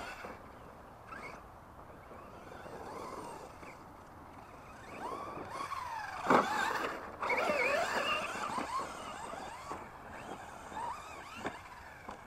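A 1/10 scale FS Racing RC monster truck running on 3S, its electric motor whining and rising and falling in pitch as it accelerates and slows, with tyre scrabbles and small knocks, moderately close and without talk.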